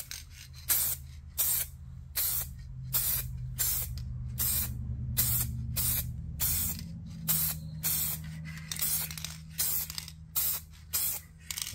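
A spray can lays a coat of paint on turtle figurines in a long run of short, evenly spaced hissing bursts, close and fairly loud over a low background hum.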